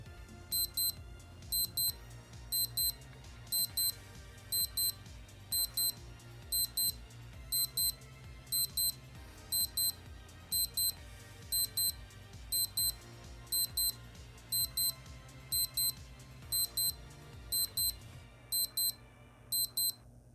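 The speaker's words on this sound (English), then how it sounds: "and wait for the alarm." A Casio META ME-110 digital watch alarm sounds in repeated bursts of high, thin electronic beeps, grouped in quick pairs and continuing steadily throughout, alone over faint background hum.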